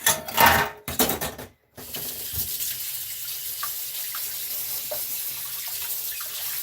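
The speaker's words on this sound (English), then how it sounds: "I'm going to go ahead and put some water here in my pan." Tap water running into a cooking pan, a loud splashing gush at first that cuts off briefly, then a steadier, quieter stream filling the pan.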